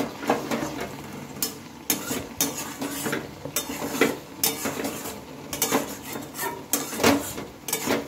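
Tomato chutney made without sugar, stirred in a pot with repeated knocking and scraping strokes of a spoon against the metal in an uneven rhythm, close and fairly loud, with no talking.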